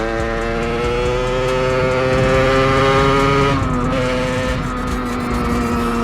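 A 50cc supermoto motorcycle engine drones loud and close while riding, its steady buzzing tone holding, then shifting pitch midway as the throttle changes.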